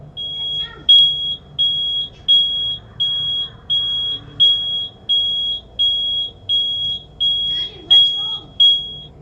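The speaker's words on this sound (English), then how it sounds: "a loud knocking sound comes out of nowhere, followed by the smoke detector going off randomly" A household smoke detector going off, a loud piercing electronic beep repeating in regular half-second bursts about once a second, close and dominant over low background rumble.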